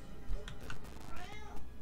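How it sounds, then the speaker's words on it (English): A hungry pet cat lets out a couple of short meows followed by a longer wavering cry, close by in a quiet room with a faint background hum. "I know you're hungry, kitty."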